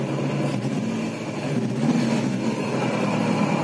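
A Nissan Sentra GA16DNE engine, just started after its ECU wiring harness was redone, runs with a steady, loud drone and slight swells in pitch, close by with no talk.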